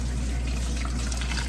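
Hot liquid is poured steadily into a cup for hot chocolate, a continuous close trickle and splash that runs unbroken for under two seconds.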